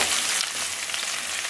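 Radish pieces sauté for sambar in a hot pan, giving a steady, close sizzle with a soft hiss throughout.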